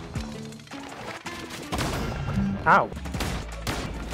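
Gunfire in Cult of the Lamb, a run of sharp game gunshot bursts over busy combat effects and music, with a brief spoken exclamation partway through.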